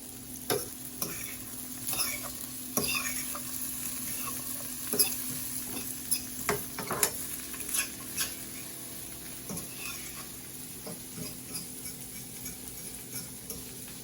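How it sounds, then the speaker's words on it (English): Scotch bonnet pepper sautéing in a pan for callaloo and salt fish: a low continuous sizzle broken by sharp utensil taps and scrapes against the pan at irregular intervals, close and without speech. "Now I'll just saute this a little bit"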